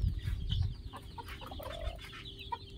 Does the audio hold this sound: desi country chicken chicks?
yes